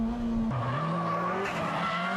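A Nissan S15 race car tuned to over 380 horsepower accelerates hard on the Fuji circuit, its loud, close engine note climbing through the gears with a shift, plus a hint of tire squeal, with no talking.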